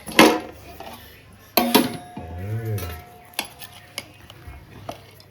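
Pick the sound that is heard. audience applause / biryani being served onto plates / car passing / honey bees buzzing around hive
biryani being served onto plates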